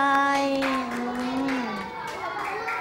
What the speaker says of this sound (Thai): ปรบมือให้หน่อยที่ตอบข้อ